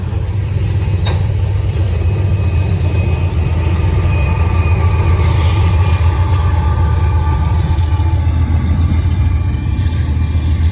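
A loud, continuous rail rumble with clattering wheels and a steady low engine drone, holding strong throughout as a Norfolk Southern train picks up speed rolling past nearby in Gaffney, South Carolina.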